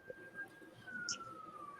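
A faint siren wails in the distance as a steady, slowly falling tone, with quiet background noise and no speech over it.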